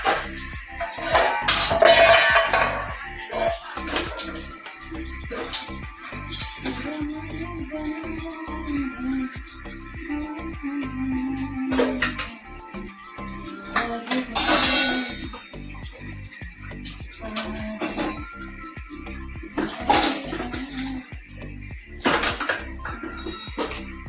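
Dishes, pots and cutlery being scrubbed and washed at home, with repeated clinks, clatters and scraping of metal utensils close by, intermittent sharp clangs over a steady background, and no talking.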